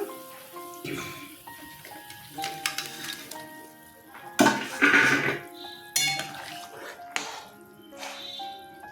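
A pot lid and pan clink and clatter in a home kitchen while a rohu-style fish curry with raw banana and eggplant simmers, several sharp metallic knocks spread over the stretch with softer handling noises between.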